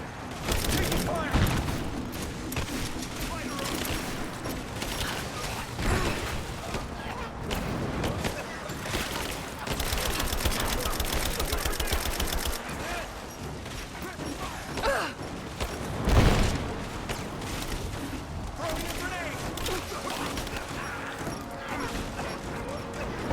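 Gunfire crackles through combat in Rise of the Tomb Raider, bursts of rapid shots and mechanical clatter running throughout at fairly close range, with one sharp heavy blast, under game dialogue.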